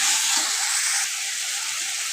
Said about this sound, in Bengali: মশলাটা কষিয়ে নেব ভালো করে।